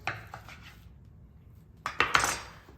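A knife cuts food into chunks on a board in a kitchen, several quick knocks and scrapes, then a pause before a louder cluster of chopping taps near the end.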